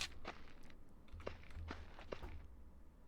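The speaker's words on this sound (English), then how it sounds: "Heard footsteps." Footsteps in the game Myth of Empires: several soft, evenly spaced steps, fairly faint, heard alone over a low ambient rumble.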